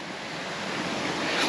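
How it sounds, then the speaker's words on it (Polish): A forest waterfall gives off a steady, dense rushing hiss of falling water, broad and continuous, fairly close and unbroken for the whole moment, with no talk. "pierwsza rzecz w sumie w lesie, która nam się ukazała, to był ten oto tutaj taki wodospad"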